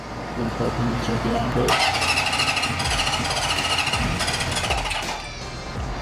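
A 1974 Honda CB750 motorcycle being revived after carb tuning cranks and catches, breaking into a loud rough rapid engine clatter that runs several seconds before dropping off, close by, with voices around.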